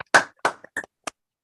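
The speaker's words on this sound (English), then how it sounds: "A big round of applause for KB1 Biz." A handful of distinct hand claps, about four or five sharp, close slaps spaced unevenly with silence between them, a small round of applause on an amateur radio net.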